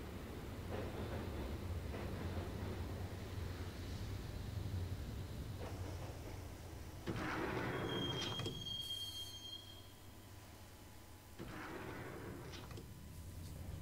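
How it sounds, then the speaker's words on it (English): A subway train rides through a station in Max Payne, a steady rumbling ride broken by a screech of wheels or brakes and a door sliding. "the train doors had already shut behind me, and I was in for the ride"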